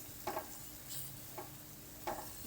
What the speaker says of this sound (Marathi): मसाला व्यवस्थित परतून घ्यायचा।